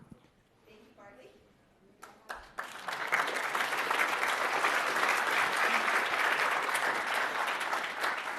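A conference audience at GTC 2024 breaks into sustained applause after a brief spoken moment, with many hands clapping in a dense, steady wash that continues to the end.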